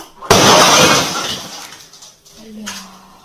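Glass shatters with a sudden loud crash, shards ringing and scattering for about a second before fading, followed by faint movement.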